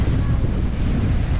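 Strong wind roars across the microphone at the seaside, with heavy surf rumbling continuously underneath; the noise is loud and steady throughout.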